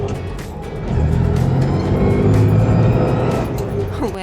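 A classic Italian engine from a Ferrari 275 GTB or Maserati Sebring drones close by, swelling louder after the first second into a sustained, rich rumble with a slight shift in pitch near the end.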